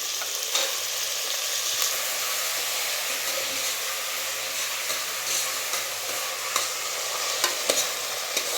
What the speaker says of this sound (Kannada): ಕಾಳು ಎಣ್ಣೆನಲ್ಲೇ ಫ್ರೈ ಮಾಡ್ಕೊಂಬಿಡಿ